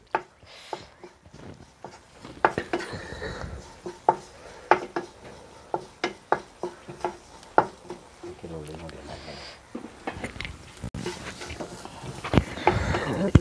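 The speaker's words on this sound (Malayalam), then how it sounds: "നമ്മൾ ഉള്ളി വഴന്നതിലേക്ക് കുരുമുളക് ചതച്ചത് ചേർത്തിട്ടുണ്ട്. നല്ലപോലെ ഒന്ന് വഴറ്റിക്കൊടുക്കുകയാണ്." Onions with crushed black pepper being sautéed in a pan, with repeated sharp clicks and taps of a spoon against the pan over a soft sizzle while a person talks throughout.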